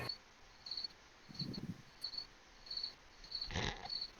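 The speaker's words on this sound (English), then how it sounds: "I can hear the crickets" Crickets chirp through a microphone during a tabletop role-playing game session, a steady rhythm of repeated high chirps at moderate distance with a brief thump and some low rumble, and no talking.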